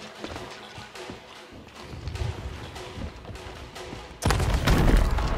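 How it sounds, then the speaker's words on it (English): A powder keg blows up in the pirate game Sea of Thieves, a sudden loud broadband blast that jumps out after several seconds of scattered gunfire-like pops and thuds, then holds as a dense roaring rumble. "You blew up the keg"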